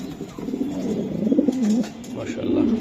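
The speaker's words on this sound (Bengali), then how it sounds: "আর একটা কবুতর ভাই নর হোয়াইট রেসার" Racing pigeons, including a white racer, coo steadily and close by in soft rounded phrases, with someone talking over them.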